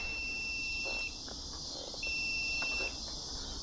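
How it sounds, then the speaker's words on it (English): A multimeter's continuity beeper sounds as its probes are held across a motorcycle quickshifter switch on a Yamaha R7 fitted with a GYTR quickshifter. The steady high tone holds throughout, rising briefly louder near the middle over faint background noise. "you can hear the beeper, you can hear the multimeter, so I've got my probes across the switch"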